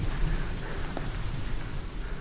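Steady rain falls in a continuous, even wash of noise with no break and no voices.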